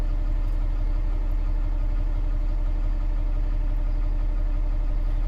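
A truck engine ticks over at a steady idle while its air tanks charge, a continuous low rumble with faint even vibration throughout and no talk.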